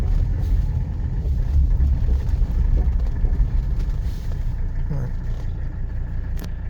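A 1978 Mercedes 300SD W116 turbodiesel driving and turning across grass, a steady low engine rumble heard from inside the car, with speech mixed in.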